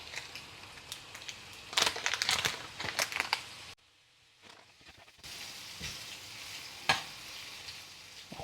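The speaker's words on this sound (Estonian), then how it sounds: "Ja praadida siis nii kaua kuni on pruun." Bacon and onion sizzling and crackling in a frying pan, loud and close, with bursts of stirring, a brief quieter pause, then the steady fry resumes.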